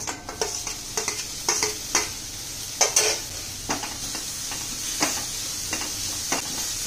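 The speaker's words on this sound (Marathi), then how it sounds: "मसाला चांगला आपण परतून घेऊया" Masala with tomatoes for a moong dal and onion dish sizzles in a pan while a spoon scrapes and taps against the metal in quick, uneven strokes, loud and close over a steady frying hiss.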